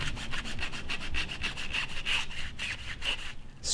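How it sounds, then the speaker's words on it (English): A chamber bore brush scrubs back and forth inside the chamber of a Marlin lever-action rifle, a close, rhythmic rasping of quick strokes, roughly four per second. "It's a chamber bore brush, and this thing works great for this."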